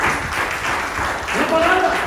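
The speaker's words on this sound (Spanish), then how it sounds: "Dame un aplauso al Señor." A church congregation claps together in a dense, sustained burst of applause, fairly loud and close, with voices mixed in.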